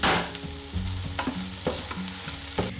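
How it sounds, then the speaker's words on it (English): Diced onion fries over medium heat in a pan, stirred with repeated scraping strokes over a continuous close sizzle, with a faint tonal hum running underneath. "Stir and cook for 4 to 5 minutes until the onion starts to soften"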